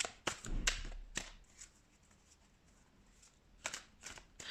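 Tarot cards being shuffled in short bursts, crisp riffling flutters and soft taps up close, separated by a quiet stretch, with no talking.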